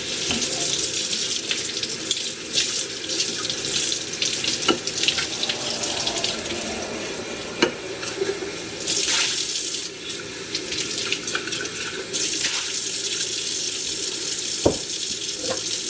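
Tap water runs steadily into a sink as glass jars are washed in hot soapy water, with a constant hiss and occasional clinks and knocks of glass nearby, no talking.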